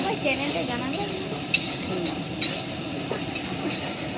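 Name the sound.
meat cooking in a pan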